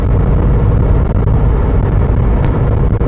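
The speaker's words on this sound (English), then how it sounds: "Can you all hear okay over the car noises?" Inside a moving car, a loud, constant low rumble of road and engine noise fills the cabin with no breaks or talk.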